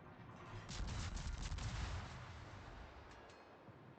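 Faint, distant naval gun salvos from warships in World of Warships form a low, rumbling boom with scattered sharper reports that fade away.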